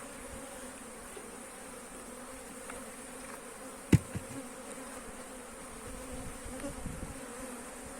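Honeybees hum steadily around a divided queen-rearing hive, a dense close buzz broken by a single sharp knock midway.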